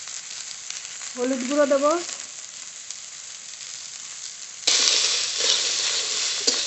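Washed, chopped ridge gourd with salt fries in a wok, a soft sizzle under a brief spoken line, then a sudden louder, sustained crackling hiss close by.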